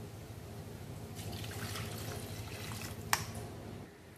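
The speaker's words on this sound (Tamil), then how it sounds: "நம்ம வந்து இப்போ இதில் தண்ணி ஆட் பண்ணிக்கலாம்." Water pours steadily into a cooking pan of sautéed vegetables for sweet corn soup, a continuous rushing splash with a brief sharp clink near the end before it tapers off.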